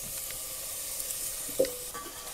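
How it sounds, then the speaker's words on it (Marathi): Onions fry in a pot over a village wood-fired stove for mutton curry, making a soft, faint sizzling hiss with a single light clink partway through. "तर याला फ्राय करून घ्या कांद्याला."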